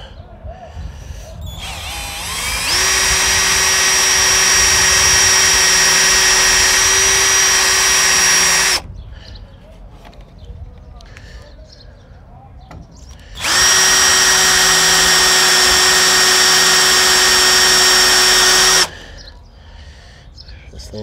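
A power drill bores a hole while trailer signage is installed, giving two long, loud, steady whining bursts of several seconds each, separated by a quieter pause with faint handling noise.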